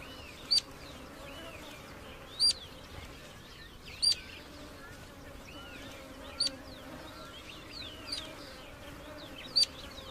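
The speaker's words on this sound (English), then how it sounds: "She's hunting insects on the wing." Flying insects buzz steadily in the midday heat of the desert, while regular sharp chirps, likely from a bird hunting them, recur about every two seconds above the faint drone.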